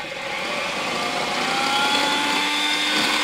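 A hand blender motor whirs steadily at close range, submerged in instant coffee and water, its pitch rising slightly as it runs, with no voices.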